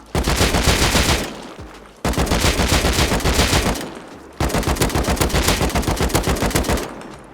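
Automatic rifle fire at moving targets in the game Rust rings out in three loud, sustained bursts of rapid shots, each burst over a second long and separated by short gaps.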